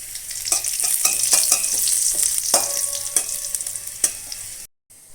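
Chopped garlic and dried red chili sizzle loudly in hot oil in a home kitchen pan, with a spoon scraping and stirring in irregular knocks throughout, close and continuous.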